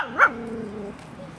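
A pinscher dog giving a single short, sharp bark close by, followed by a brief low tonal whine.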